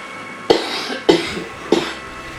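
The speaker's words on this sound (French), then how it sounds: "Putain, je tousse énormément." Three sharp, close coughs about half a second apart, each with a short rasping tail, and no talking.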